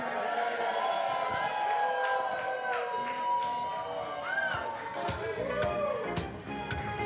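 Wedding guests in a reception hall cheer and clap after a speech. It sounds like a lively, steady crowd roar, with excited voices calling out over scattered applause the whole way through.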